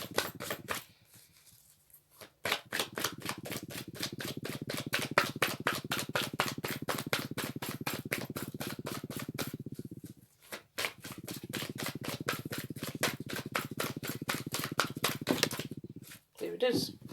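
Tarot cards are shuffled close up in long, steady riffles, a dense flutter of rapid card snaps that stops briefly and then resumes, ending with a few soft handling sounds.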